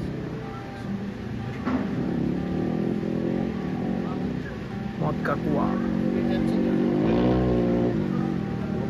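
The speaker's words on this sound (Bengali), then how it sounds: "দুজন এখানে ডার্ট বাইক নিয়ে" Two dirt bikes rev with a rough engine drone and rising revs, heard steadily under nearby people talking.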